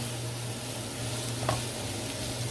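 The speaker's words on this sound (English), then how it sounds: "stir them up like that until they become nice and translucent, brown, and soft" Sliced potatoes sizzle in a hot oil-filled pan while being stirred, giving a steady, close frying hiss, a low hum underneath and one brief scrape of the spoon midway.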